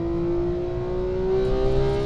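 A Porsche 911 GT3 engine on the track at Anglesey revs hard and close, its tone climbing steadily as the car accelerates, loud and alone.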